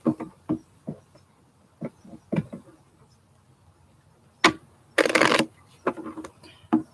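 A deck of playing cards is handled and shuffled: scattered clicks and taps of cards, then one dense riffle burst near the end, with a few light taps after it, all close and with no talk.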